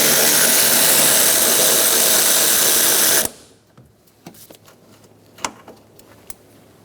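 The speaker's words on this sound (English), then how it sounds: "Remove the 10mm bolt for the coolant reservoir" A power tool whirs loudly and steadily as it backs out the 10mm coolant reservoir bolt on a 2014-2018 Chevrolet Silverado 1500 with a 5.3L V8, then cuts off abruptly, leaving a few faint clicks and knocks.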